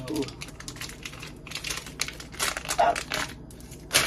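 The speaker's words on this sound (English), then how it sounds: "it's in another plastic bag. So I'll crack that open" Crinkly rustling of the inner plastic bag of a Trader Joe's organic tempeh package being handled and pulled open, with irregular crackles and a few sharper pops, close by.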